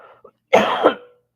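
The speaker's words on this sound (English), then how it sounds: "Can't stop coughing" One loud, close cough lasting about half a second follows a faint breath in a quiet room.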